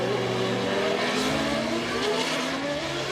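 Auto GP open-wheel race cars at the Marrakech street circuit, their engines droning loudly and continuously with layered, shifting pitches as several cars run together, alone without talk.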